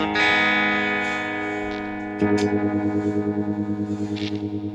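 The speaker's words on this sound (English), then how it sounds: "The next effect is Harmonic trem" Sustained electric guitar chords through an Electro-Harmonix Mod 11 harmonic tremolo, pulsing and wobbling, turning clearly rhythmic after a fresh strum halfway through, loud and alone.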